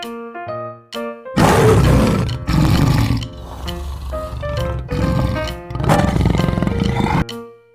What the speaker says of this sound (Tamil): புலி, டைகர்.